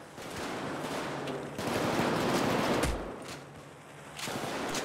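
Sustained automatic gunfire from a machine gun in the Payday 2 video game, a dense, continuous rattle of shots that swells louder midway and stays close and loud throughout, with no talking.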